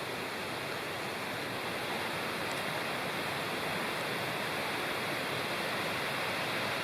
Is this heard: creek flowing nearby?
yes